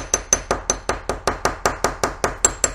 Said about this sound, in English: taking that ball pin and hammering along the edges of this blank